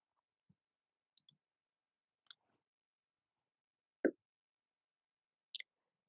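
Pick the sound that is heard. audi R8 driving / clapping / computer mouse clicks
computer mouse clicks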